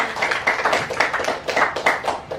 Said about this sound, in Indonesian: Kita kasih tepuk tangan dulu untuk kita semua